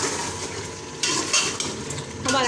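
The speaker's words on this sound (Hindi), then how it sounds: "अब इस नमक मिर्च के साथ जो है वो कीमे को फ्राई करेंगे।" Beef mince frying with salt and chili, a loud close sizzle broken by bursts of stirring and scraping of a spoon against the pan, with no voices.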